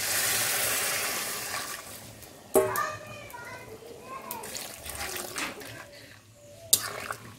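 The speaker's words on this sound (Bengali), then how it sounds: "এবার দিয়ে দেব গরম জল" Hot water is poured into a pot of browned mutton and potato curry: a steady broadband rush at the start, then softer trickling under children's chatter and voices nearby.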